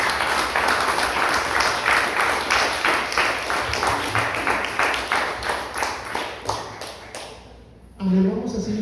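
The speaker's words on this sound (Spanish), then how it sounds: "Déselo fuerte el aplauso al Señor." Congregation applause during a church service, a dense rhythmic clapping that gradually thins and fades over about seven seconds before a voice begins speaking.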